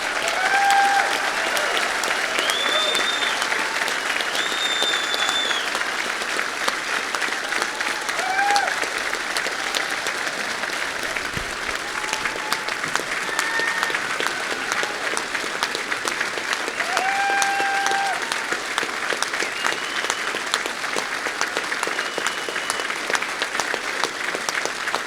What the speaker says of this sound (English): give a thunderous round of applause for these leaders here in this table tonight